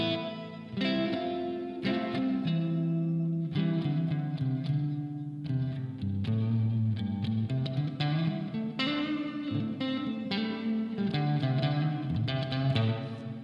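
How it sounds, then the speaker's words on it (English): Distorted electric guitar chords ring out through a reverb pedal, notes blurring and sustaining into each other across a continuous passage. "That's an amazing sound of reverb."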